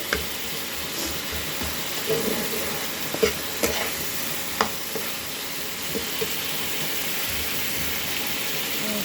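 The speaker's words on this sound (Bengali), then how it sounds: "তো এবার সয়াবিনগুলো দিয়ে দেবো, আগে ভাজিনি সয়াবিনগুলো, এত তেল চারিদিকে ছিটকচ্ছে" Soybean chunks frying with spice paste in spattering oil, a steady sizzle with scattered sharp pops and stirring clinks, close and unbroken by talk.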